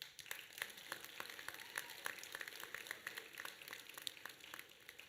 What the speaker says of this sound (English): So I would like the graduates to give your parents a round of applause.